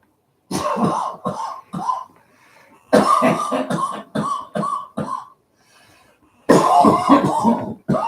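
Repeated bursts of coughing and throat clearing, several clusters of harsh hacks separated by short pauses, close and loud.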